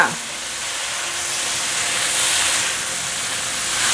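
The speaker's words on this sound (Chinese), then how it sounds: "现在加入点水进来，大约30cc 的水，快速翻炒" About 30 cc of water splashes into a hot wok of stir-fried rice and seaweed, giving a steady loud steam hiss and sizzle that swells and holds for several seconds during quick tossing.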